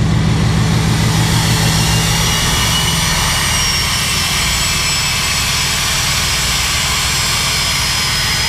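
A loud, steady diesel truck engine roar with a rough, rapid chattering from the exhaust brake that holds throughout, close and unbroken.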